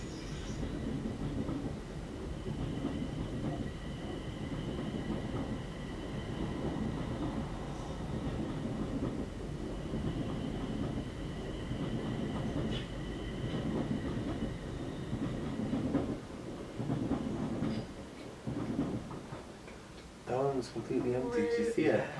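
A near-empty passenger train rolls along its rails with a continuous low rumble and rhythmic clatter, brakes or wheels squealing briefly near the end, while people talk on and off over it.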